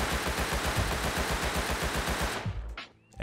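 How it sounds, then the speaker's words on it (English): A Thompson submachine gun in the PC version of Rust fires a loud, rapid, steady automatic burst while the player stands, then cuts off into a short mechanical clatter. "moving on to the Thompson. Standing recoil on the PC version of Rust"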